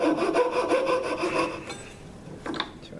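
A hand saw rasps through a piece of material clamped in a vise, steady back-and-forth strokes close and loud, then the cutting stops and a few light scrapes and knocks follow.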